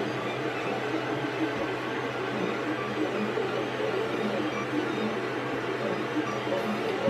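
A Creality CR-10S 3D printer hums and whirs steadily mid-print, a constant mechanical drone with fan noise and no talking.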